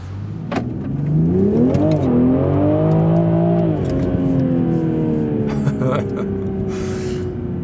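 A 2020 Toyota GR Supra with 340 PS revs its engine in a rising and falling sweep, a loud, close, throaty note that holds steady afterward while a voice talks over it.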